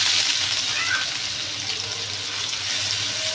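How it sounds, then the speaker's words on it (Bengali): Chopped onions frying in oil in a cooking pot for a prawn curry, a steady close hiss and sizzle with faint stirring, holding an even level for a few seconds with no voices. "পেঁয়াজগুলো একটু লাল লাল করে ভেজে নেব।"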